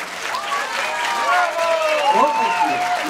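An audience at the Jazz on the Dnieper festival applauds after a drum solo by a 12-year-old drummer. The crowd claps steadily and moderately loudly while a voice speaks over it.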